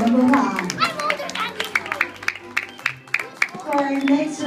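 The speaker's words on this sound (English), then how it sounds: "Let's give Tita Carla and her birthday princess a big round of applause." Round of applause at a seventh birthday party for a girl and her Tita Carla, a run of sharp claps from the guests, with a voice talking over the start and end.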